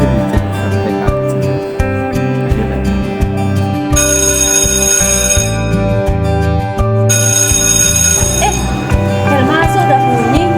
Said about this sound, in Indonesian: Bel masuk udah bunyi.